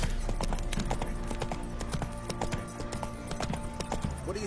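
Hooves of the horse Roach clatter in a quick, continuous galloping rhythm in The Witcher 3: Wild Hunt, close and even throughout, with faint game ambience behind and no talking.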